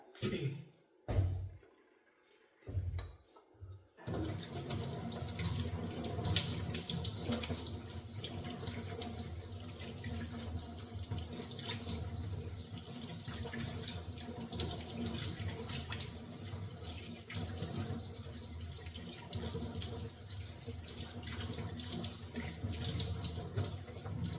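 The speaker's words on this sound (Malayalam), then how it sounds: "ഇനി നമുക്ക് ഈ കൈ കഴുകാം" A tap runs steadily while hands are washed beneath it, close and continuous after a few brief splashes at the start, with no talking.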